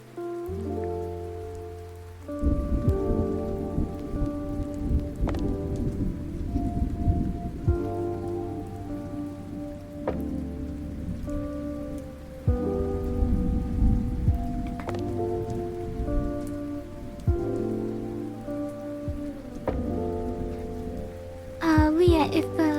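Steady rain with thunder sound effects plays throughout, a continuous dense wash with occasional louder rumbling swells, set beneath music and a drawing stream.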